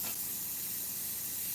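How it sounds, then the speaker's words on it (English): An Iwata CM-SB airbrush sprays Createx paint onto Claybord in a steady, close, even hiss for about a second and a half, with no talking. "tint this a little bit more with a lighter spray of its own mixture"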